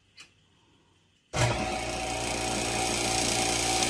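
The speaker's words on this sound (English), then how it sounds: "you can hear the pump running, and that's the noise that it makes when it's running" After a faint click and a second of quiet, a freeze dryer's vacuum pump kicks on and runs steadily with a loud, dense mechanical drone and hum.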